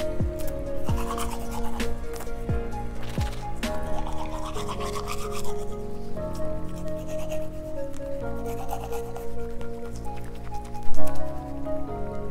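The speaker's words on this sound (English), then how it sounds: "let's go ahead and get brushing on her teeth" A toothbrush scrubs teeth in a Toca Boca game, a fast, bristly rubbing that runs continuously over upbeat background music.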